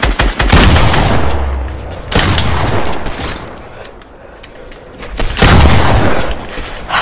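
Gunfire in the Fortnite video game, loud rapid bursts of shots and booms coming in several waves with brief lulls between them and no talking over it.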